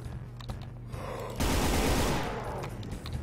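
Rapid gunfire in the video game Doom, a dense, loud burst of repeated shots that swells, holds, and then fades back under lower game noise.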